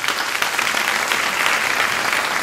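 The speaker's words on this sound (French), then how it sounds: "on s'applaudit bien fort" At a climbing festival, an audience breaks into dense, steady applause that stays loud and even throughout, with no talk over it.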